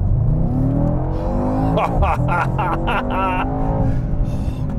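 A 2021 Mercedes-AMG E63 Wagon accelerates hard with a loud, rising engine roar and a quick run of up-shift bursts in the middle, with a voice and laughter over it.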